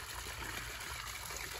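An artificial waterfall splashes into a pool in a winter display scene, giving a soft, steady trickling wash throughout, fairly quiet and unbroken.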